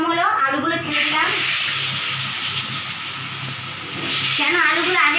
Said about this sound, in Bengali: দেখুন, তেলটা গরম হলো, আলুগুলো ছেড়ে দিলাম।